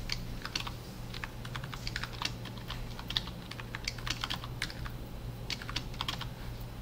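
Steady computer keyboard typing with scattered quick key presses, including a Ctrl+E shortcut, close and clear over a low constant hum, with no voices.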